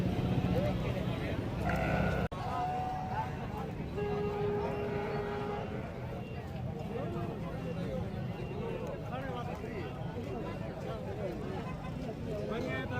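Goats bleat amid a busy outdoor livestock market in Layyah, Punjab, with steady crowd noise and nearby voices talking throughout.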